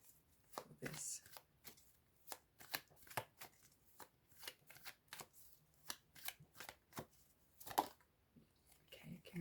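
Tarot cards being shuffled for a reading, a quick run of crisp riffling snaps and soft slaps in an uneven rhythm, close and clear with no talk over them.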